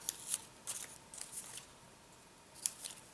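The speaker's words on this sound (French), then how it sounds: "je coupe." Scissors snipping through paper while making a cardboard tissue box, a handful of crisp, separate cuts at close range with short quiet gaps between them.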